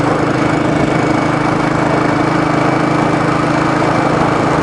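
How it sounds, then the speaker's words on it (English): A Royal Enfield motorcycle engine thumps steadily while being ridden, a continuous loud low putting drone with even pulsing and no talk over it. "Oh, but this engine is just lovely."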